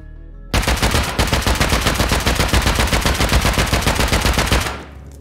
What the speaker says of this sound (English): The kick on the AK is harsh.